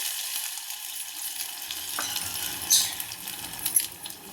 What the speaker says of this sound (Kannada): ನೋಡಿ ಇದಕ್ಕೆ ಒಗ್ಗರಣೆ ಹಾಕ್ತಾ ಇದ್ದೀನಿ